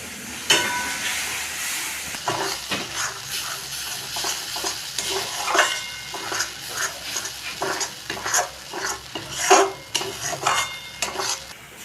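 Cashew paste frying in a pan while a spoon stirs it, giving a steady sizzle broken by repeated scraping strokes against the metal, close and fairly loud, with no talking.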